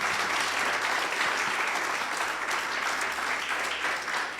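A church congregation claps together after a sermon, sustained dense applause throughout at steady loudness.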